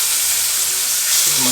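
Beef short ribs sizzle steadily in a frying pan, a close, constant hiss of spitting fat that carries on alone without pause.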